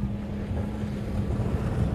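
Boat engines drone steadily at Haulover Inlet during a crowded Fourth of July boating gathering, a continuous low rumble with a steady hum, mixed with wind buffeting the microphone, and no talking.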